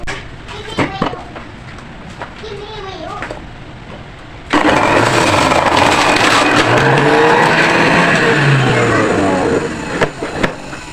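An electric juicer starts up partway through, its motor roaring loudly and steadily as peeled, sliced cucumber is fed in; before that come quiet handling clicks and a brief voice.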